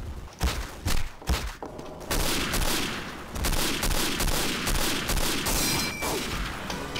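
Gunfire in Day of Defeat: Source, with several sharp separate shots early on followed by a dense, continuous rattle of firing and stray rounds, loud and close with no talk.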